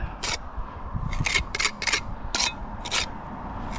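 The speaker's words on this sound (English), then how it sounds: "So all I'm doing is jam the trowel, put that in there." A trowel packs mortar into a brickwork joint on an old renovated property, making about six short, gritty scraping strokes close up against a soft background hum.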